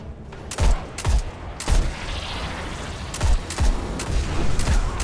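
Loud, close gunshots from a first-person shooter campaign bringing down an enemy, sharp booming reports in irregular clusters of two or three, with a rumbling bed between them.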